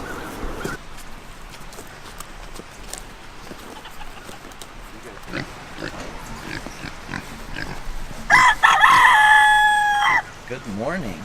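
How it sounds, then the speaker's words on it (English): Chickens cluck and call around a farmyard, with a loud rooster crow near the end that rises above the background clucking. A few other sounds are heard throughout. "Good morning, chickens."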